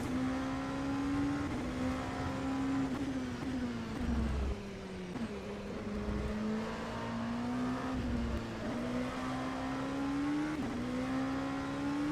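Simulated LMP2 prototype race car engine in rFactor 2, a steady loud drone holding one pitch with small dips and rises as it shifts and brakes through corners, continuous throughout with no talking.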